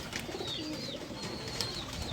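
Lahori pigeons on a Lahore rooftop coo softly and continuously against a low background hum, with faint higher chirps drifting through at moderate distance.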